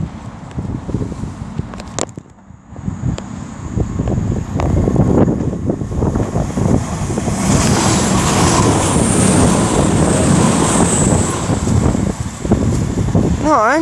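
A train accelerating away through Lichfield Trent Valley station, a steady rising rumble of wheels and traction that builds after a brief lull and stays loud to the end, with faint voices nearby.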